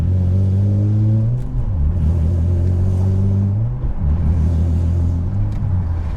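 An Infiniti G35 coupe fitted with a Z1 Motorsports one-piece aluminum driveshaft drones loudly as it accelerates. The engine pitch drops sharply at two gear shifts, followed by a pulsing, throbbing womp from the drivetrain as it pulls again.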